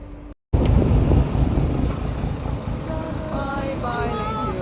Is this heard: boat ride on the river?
yes